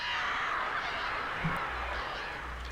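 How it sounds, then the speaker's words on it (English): Crows cawing in the forest of the video game Alan Wake, a steady bed of harsh calls blended with ambient game sound, moderately loud throughout with no talk. "there's lots of crows"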